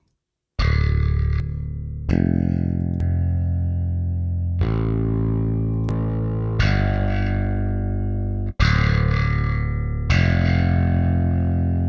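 Distorted electric guitar chords ring out in a series of strummed hits and sustained notes, loud and crunchy, with no talking.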